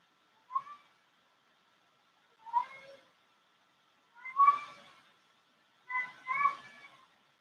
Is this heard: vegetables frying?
no